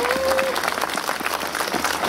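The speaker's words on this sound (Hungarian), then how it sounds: "az most tapsoljon." Applause from a large audience at a 2015 Veszprém election forum, a steady dense wash of clapping that fills the whole stretch at an even, fairly loud level.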